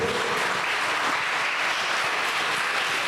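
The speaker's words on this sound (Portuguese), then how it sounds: "aplauda o Senhor" Church congregation applauding during a lively evening worship service: a loud, dense, continuous wash of clapping from a large crowd, steady and unbroken for about three seconds with no distinct voices.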